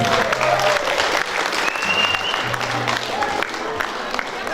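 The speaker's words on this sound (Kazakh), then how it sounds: "Шапалақтайды ағай" Guests at a Kazakh wedding celebration clap steadily and loudly throughout, a thick wash of applause with faint voices and a tone or two rising through it.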